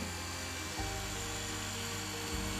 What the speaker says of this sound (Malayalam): രണ്ട് സൈഡിൽ നിന്ന് നമ്മൾ അമ്പത് സെൻറ്റിമീറ്റർ മാറി തുളയിട്ട് കൊടുക്കണം